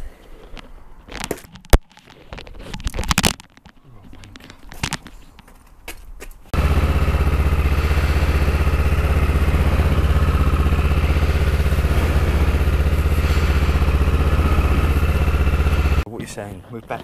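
Yamaha Thundercat motorcycle engine running steadily and loudly at idle for about ten seconds, preceded by clattering handling noises and voices, then cutting off abruptly near the end.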